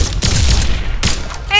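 A gun goes off in the platform fighting game Brawlhalla: two loud, sharp blasts about a second apart, each ringing out hard over a busy, noisy game mix.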